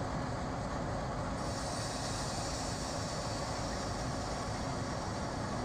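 Train speeding through Asaoti station on the New Delhi–Mathura rail route, a continuous loud roar of rolling wagons with wheel rumble and faint squeal, steady throughout with no talk.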